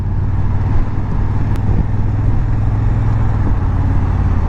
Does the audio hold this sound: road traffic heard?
yes